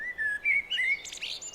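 A blackbird sings a short phrase of clear, fluting whistles that ends in a higher, scratchy twitter, close and alone over a quiet outdoor background.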